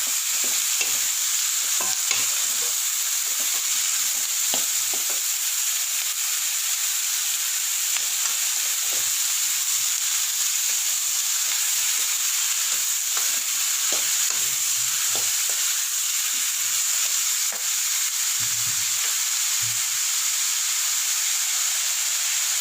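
Cucumber pieces stir-fried in a pan for Tamil vellarikkai poriyal, giving a steady close sizzle and hiss with repeated scraping stirs throughout, no voices.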